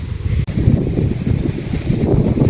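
Steady strong wind buffeting the microphone, a continuous low roar with gusts and no voices.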